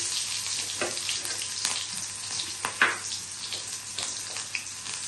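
Chopped onions dropped into hot oil in a pan, frying with a loud, steady sizzle and crackle, with small bursts of spatter and a few stirring sounds, no talking.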